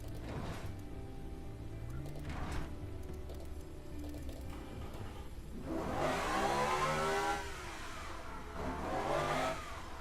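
A V12 engine revving in the Automation car-building game, tuned toward 10,000 horsepower; a steady mid-pitched whir rises into a louder, harsher rev swell, drops back, then surges again near the end, with no talk.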